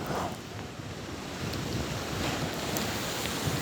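Strong, high sea waves crash and surge on the coast at Alexandria, a dense continuous roar mixed with heavy wind buffeting the microphone, loud and close throughout.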